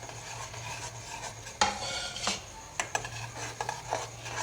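Ground ginger, cinnamon, green cardamom and clove spice mix tipped into jaggery tea and stirred in a pot, giving close scraping and clinking strokes with a few sharper taps over a low steady hum.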